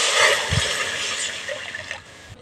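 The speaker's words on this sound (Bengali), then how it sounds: "কড়ার মধ্যে দিচ্ছি জল" Water pours into a kadai holding freshly ground roasted spices for a raw mango chutney, a steady close splashing rush that eases off toward the end, with no talk.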